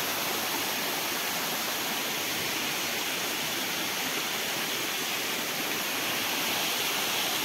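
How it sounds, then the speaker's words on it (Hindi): Fresh spring water pours down over rocks in a jungle, making a steady, loud, unbroken rush with no pauses and no voices. "आनी हे उदक डायरेक्ट हांगसरल्यान अशें सकयल वयता, डायरेक्ट भाटान सप्लाय."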